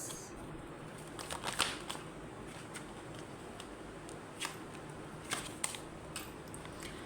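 Tarot cards being shuffled and drawn from the deck, soft papery riffles and flicks with a few sharper snaps scattered over a steady background hiss, quiet and close, no talking.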